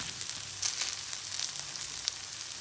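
Grated potato hash browns frying on a tawa, a fine crackling sizzle with small pops throughout, close and fairly quiet, no voices.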